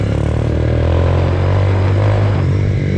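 A motorcycle fitted with a slightly louder-than-stock aftermarket exhaust revs up close by, a loud, sustained engine drone rising in pitch as the throttle opens, with no talking.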